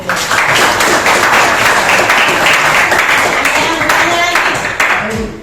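A classroom of students applauds together: loud, close, dense clapping that is steady, then tapers near the end, with a few voices and scattered sounds mixed in.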